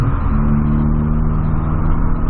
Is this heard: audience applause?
no